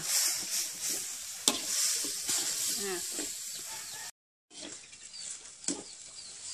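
Frog curry ingredients (onion, lemongrass and fern leaves) being stir-fried in a pan, steady crackling sizzle with occasional scraping stirs, briefly cut off then resuming, while someone talks over it.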